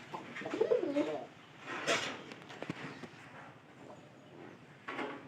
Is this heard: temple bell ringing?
no